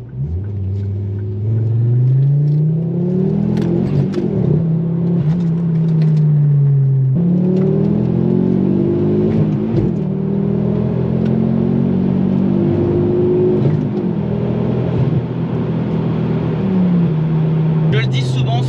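A 300 hp car on semi-slick Cup 2 tyres accelerates hard through the gears, its engine note climbing in long rising sweeps with brief dips at each shift, loud and close, with a voice talking over it.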